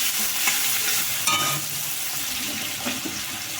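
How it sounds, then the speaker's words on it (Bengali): Chopped onions, two small ones, sizzle and crackle steadily in hot oil in a pan while being stirred, with short scraping bursts; no talking. "পেঁয়াজটাকে একটু ভেজে নেবো লাল লাল করে"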